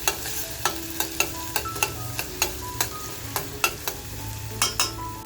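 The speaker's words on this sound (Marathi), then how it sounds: "तेल थोडंसं तापल्यानंतर आपण लगेचच कांदा टाकून घेणार आहोत." Chopped onion frying in hot oil for a restaurant-style chicken thali, with a steady sizzle and a spoon stirring and scraping the pan in regular knocks about every half second, close and alone.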